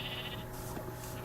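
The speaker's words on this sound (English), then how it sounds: "He's a sheep." A sheep in the video game Minecraft gives a short bleat, a single moderately loud blocky baa with no talking over it.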